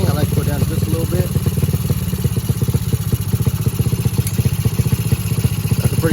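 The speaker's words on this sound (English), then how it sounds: "That's a pretty good idle right there." A Honda four-stroke dirt bike engine idles steadily close by, its even pulsing putter running throughout at a constant level.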